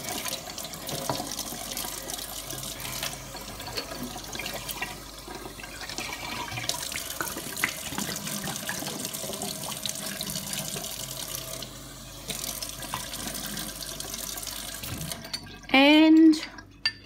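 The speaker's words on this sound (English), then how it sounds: "give it a good rinse with some clean water" Clean running tap water rinses out a glass bottle, a steady splashing flow throughout with a few brief clinks and a louder gush near the end, and a voice speaks now and then.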